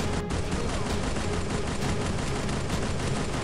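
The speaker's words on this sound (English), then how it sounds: "I was shooting you straight in the head." Sustained automatic gunfire from the mobile battle game Free Fire, a dense, loud, unbroken rattle of rapid shots filling the whole stretch.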